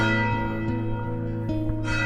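A church bell rings in the historic centre of Sassari, Italy, a loud sustained metallic tone with lingering resonant hum and a few fresh strikes spaced through the clip.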